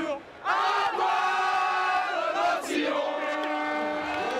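A crowd of spectators cheers and shouts loudly before a butchery competition, with sustained whooping and chanting voices building in a stadium-like atmosphere.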